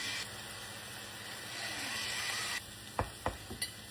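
Ground beef sizzles and fries steadily in a pan while being broken up and stirred for a Bolognese sauce, ending with a few sharp scrapes and knocks of the utensil against the pan.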